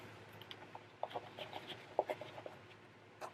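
Paper backing peels off tape during wall panel construction in a few quiet, crackly tearing bursts with small rustles between them, close and soft.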